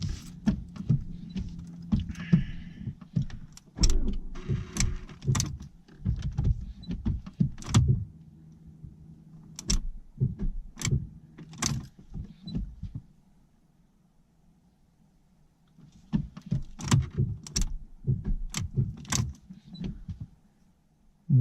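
A Fiat Abarth with a newly replaced battery clicks and whirs in repeated short bursts from inside the car as it fails to start, with quiet gaps between the tries and a long silent pause midway.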